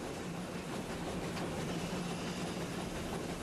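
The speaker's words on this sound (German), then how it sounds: "Unser Zug macht sich auf den letzten Teil seiner Strecke." Museum steam train running along a railway line on the final stretch toward its home station, a steady, continuous rolling rumble and clatter of the carriages, close and fairly loud throughout with no talking.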